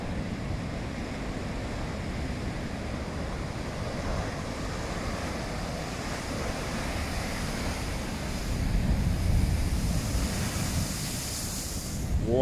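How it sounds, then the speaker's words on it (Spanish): Heavy ocean surf at Coruña crashes and roars continuously, a dense, loud wash of breaking waves mixed with gusty wind buffeting the microphone. "Menudas olas."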